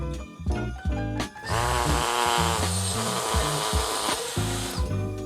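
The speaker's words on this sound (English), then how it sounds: "let's take a look at how we're going to drill a hole in your beautiful yard" A power drill bores a hole into the soil of a backyard lawn, its motor whining steadily and loudly for several seconds over a gritty, grinding rumble, with no talking.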